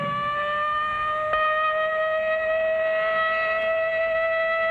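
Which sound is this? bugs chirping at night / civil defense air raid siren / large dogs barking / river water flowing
civil defense air raid siren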